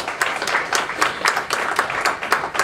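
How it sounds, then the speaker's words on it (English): Audience applause for a guest speaker coming to the podium at a campus brown bag talk, a steady patter of clapping with regular louder bursts from a small crowd, near and alone with no talk. "So please welcome him to the podium with applause."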